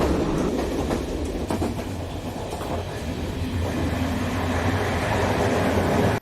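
A passenger train pulling into Salem Junction, a continuous close rumble with rhythmic wheel clatter and metallic rattling, steady throughout.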